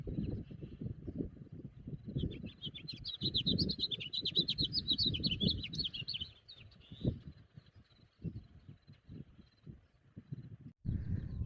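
A bird at Rye Patch Reservoir in Nevada sings a long, rapid, high twittering phrase over several seconds, clear against low rumbling wind or handling noise, with no voices.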